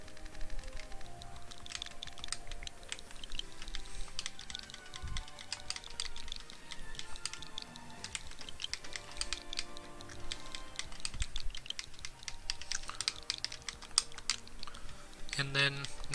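Rapid, uneven clicking of keys on a computer keyboard, close and fairly quiet, continuing in bursts throughout with occasional soft thumps.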